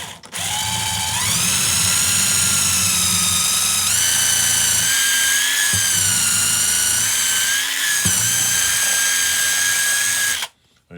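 A power drill whines loudly and continuously for about ten seconds, its pitch dipping and rising as it bites into material, then it stops.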